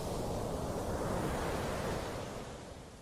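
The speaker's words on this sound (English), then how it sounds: "you're starting to hear the waves and to feel a gentle breeze" Ocean surf washes continuously onto a beach, an even, full roar mixed with breezy wind that eases off slightly at the end, with no voices.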